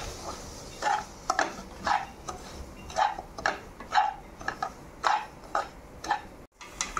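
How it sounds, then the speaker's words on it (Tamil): Semolina roasts in ghee for kesari while a spoon stirs it, giving a regular series of close scraping taps against the pan over a low background sizzle. "இந்த நெய்யிலேயே ரவையை சேர்த்துக்கலாம் வறுக்கிறதுக்கு"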